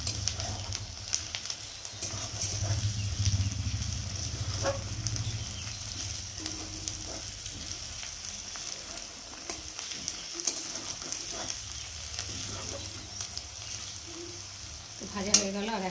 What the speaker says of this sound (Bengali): কাঁচা লঙ্কাটা একটু ভেজে নেব।